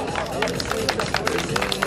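A crowd at a drag racing event applauds a third-place finisher, with quick, overlapping handclaps forming a lively patter over a bed of crowd murmur.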